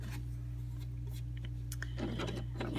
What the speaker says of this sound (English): And I'm just sewing around in a circle, making sure that all the edges of the coil are getting sewn in.